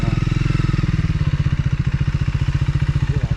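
A motorcycle engine idles and throbs close by, with a steady, rapid low-pitched pulsing that holds even throughout.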